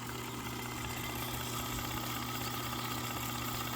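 An electric-motor-driven power sprayer runs beside a spinach field to feed a sprinkler through a hose, giving a steady, faint, even mechanical hum and drone with no speech.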